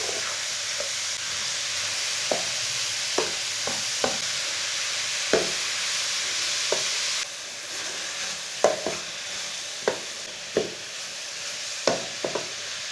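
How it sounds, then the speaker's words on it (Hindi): Grated carrots stir-fry in a pan with a continuous loud sizzle, punctuated by regular scraping clicks of a spatula stirring the shreds. "गाजरों को ना 5-6 मिनट के लिए भून लेंगे।"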